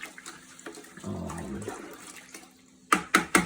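Water poured into a container to make a coffee dye bath for dyeing sneakers and laces, a steady splashing pour under a second and a half, followed by a few sharp knocks or clunks near the end.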